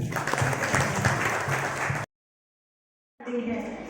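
Audience at a Haldi Kumkum ceremony in Burhanpur claps in steady, dense applause, cut by a sudden full dropout of about a second before the clapping resumes.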